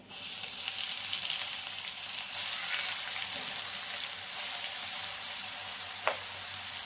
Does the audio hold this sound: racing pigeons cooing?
no